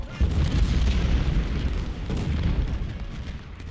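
Game battle sound from Ultimate General: Civil War: a dense, continuous rumble of distant artillery booms and massed musket fire, with a sharper boom near the start and another around the two-second mark.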